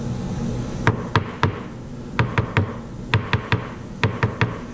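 Jeweler's hammer taps a metal bezel around a set stone at the bench, a sharp, close series of light strikes in short irregular bursts of two or three.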